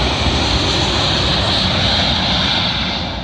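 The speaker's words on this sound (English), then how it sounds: "Arriving in now is one of our 3 Airbus A350-1000. This one's with Japan Airlines working a service from Tokyo to London Heathrow." A Japan Airlines Airbus A350-1000 jet arriving at London Heathrow on runway 27L, a loud, steady, broadband engine roar close by, holding constant as it passes.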